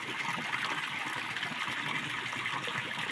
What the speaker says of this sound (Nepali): यहाँ पम्प कुनै पम्प लागेको छैन, केही लागेको छैन, फेरि पनि पानी आइरहेको छ